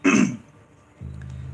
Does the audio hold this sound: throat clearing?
yes